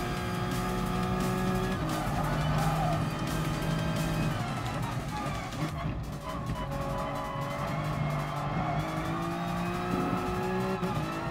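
Race car in Gran Turismo Sport screams at high revs with loud, continuous engine tones rising and falling through gear changes, plus tire squeal through corners, all in the foreground.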